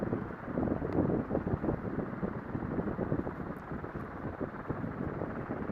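A ceiling fan blows air in a room, a steady close rushing whoosh with a faint fluttering pulse, no voices.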